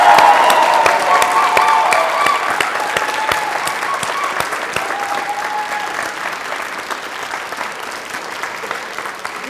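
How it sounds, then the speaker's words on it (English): An audience of families and supporters at a university graduation ceremony bursts into loud, dense applause for the graduates, crisp individual claps standing out, then slowly tapers over several seconds. "Can we give them a great big round of applause?"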